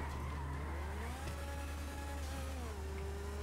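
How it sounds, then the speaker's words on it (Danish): A car driven around in the video game GTA V, with a steady engine drone and gliding pitch sweeps as it accelerates and turns, plus a brief tire skid, loud and continuous with no talk. "Jeg kører rundt i min entity."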